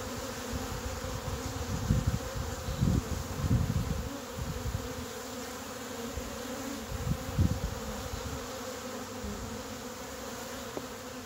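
Honeybees buzz around their hives in a backyard on an evening, a dense continuous hum of many wings with passing swells as individual bees fly close by, steady and moderately near, with no talking.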